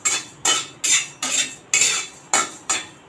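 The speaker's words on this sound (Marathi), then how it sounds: "धने जिरा दोन्ही एकत्र भाजून घेणार आहोत." Coriander seeds and cumin dry-roast together in a pan, stirred in a steady rhythm: about seven sharp, close metallic scrapes in quick succession, each fading out, with no talking.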